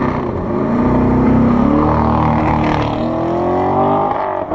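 The engine of a 2014 Corvette Stingray roars loudly and close during a launch control start, holding a steady, heavy revving note with a rising pitch for several seconds.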